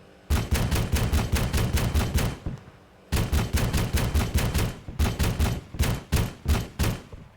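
Tank guns fire in the Arma 3 Tanks DLC video game, rapid automatic bursts of sharp, loud reports in quick, even rhythm. Three long strings are broken by short pauses, close and with no talk.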